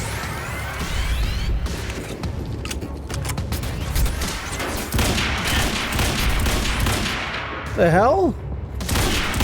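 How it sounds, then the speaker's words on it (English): Rapid video-game gunfire from Quantum Break rattles in dense bursts with crashing impacts, loud and close, while a voice exclaims briefly near the end. "Ow, stop shooting me!"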